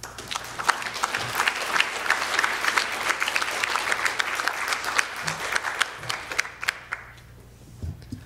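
An audience at a Public Art Fund talk at The New School applauds to welcome artist Roger Hiorns: dense, steady clapping for about seven seconds that then fades out.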